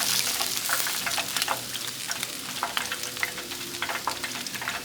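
Cornmeal-battered catfish fillets frying in hot grease, a steady dense sizzle with scattered crackling pops that never lets up, with no talk over it.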